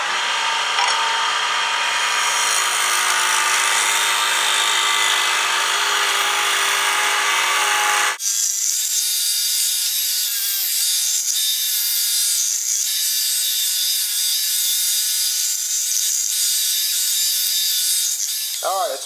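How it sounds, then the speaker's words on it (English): A scraper smooths the outside of a cracked wooden bowl on a lathe, producing a loud, continuous rasping and rubbing against the spinning wood that abruptly changes to a thinner, higher scraping partway through. "I'm going to smooth the outside with my scraper"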